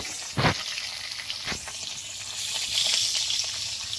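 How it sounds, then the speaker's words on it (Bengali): Nigella seeds, green chilli, radish and potato fry in hot oil with a loud, steady sizzle, a couple of sharp spits and splashes as ingredients drop in, and light stirring underneath. "ওই তেলেই আমি দিয়ে দেবো ফোড়নের কালো জিরে"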